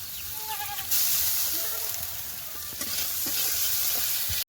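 Ground cumin and chili paste go into hot oil with chopped onion, crushed garlic and a dried red chili, giving a steady close sizzle with stirring scrapes and brief clinks, a voice murmuring faintly.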